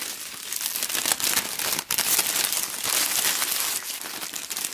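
Plastic wrap crinkled and gathered around an Easter basket, close, continuous crackling and rustling with a brief pause partway through.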